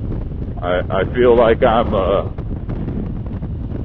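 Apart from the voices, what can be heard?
wind noise while riding a 2021 Harley-Davidson Road Glide Special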